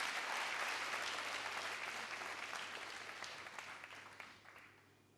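An audience in a hall applauds a contestant from Burkina Faso at a televised talent final, a dense burst of clapping that gradually fades over a few seconds.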